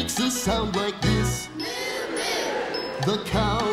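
Concert audience of children and adults mooing like a cow during a farm sing-along, voices imitating the animal in a long drawn-out crowd call, framed by short bursts of music at start and end.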